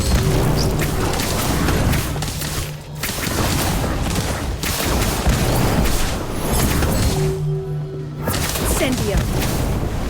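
A bomb goes off during spell combat in Hogwarts Legacy: heavy booms and crashing impacts pile up over a dense, loud battle, with brief lulls and voices speaking throughout.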